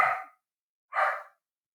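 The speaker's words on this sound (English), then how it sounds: "And that's my dog, Louie." A playful dog barks twice indoors, two short, fairly loud barks about a second apart with silence between.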